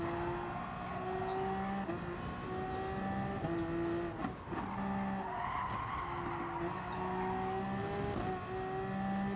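Race car engines drone steadily in Gran Turismo Sport on PS4, a sustained tonal whine with repeated gear-shift steps and pitch changes, plus tire skidding, running continuously at moderate level without talk.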